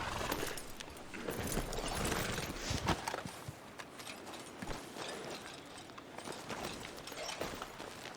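Horse hooves clip-clop on the ground in Red Dead Redemption 2, a steady irregular trotting rhythm mixed with clattering tack and other game sounds at moderate loudness, with no one talking.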